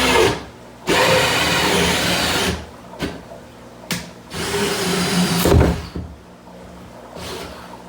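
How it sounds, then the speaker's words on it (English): A drill bores holes during a tank build, with several long, loud whirring runs broken by short pauses, close by and with no talking. "So we'll go ahead and get the other ones drilled."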